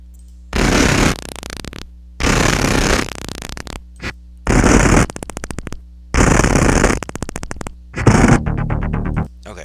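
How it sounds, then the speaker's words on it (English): Explosion sound effect generated by AI in Suno: five loud, roaring bursts of about a second each, separated by short silences, some ending in crackling rattles. "Okay, so that could be my explosion."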